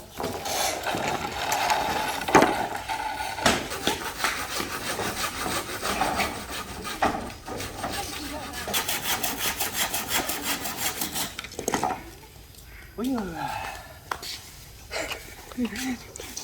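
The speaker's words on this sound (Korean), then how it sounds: "톱질이훨씬편하네요" A hand saw rasps steadily back and forth through hard bamboo in a fast rhythm, then stops, with people talking nearby throughout.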